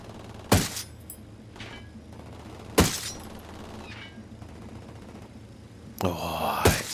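Gunfire in the tactical shooter Ghost Recon Wildlands: three sharp, loud shots spaced a couple of seconds apart over steady low game ambience, the last one landing amid a noisy rustling burst.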